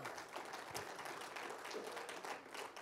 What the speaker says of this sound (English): I'll wait while you clap your hands there.